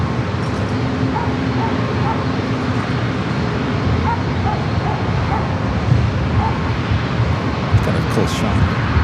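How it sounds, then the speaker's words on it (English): Dogs bark below a plane spotter's perch at San Diego airport, with a few yips heard under constant wind and aircraft rumble while someone talks. "Dogs below me."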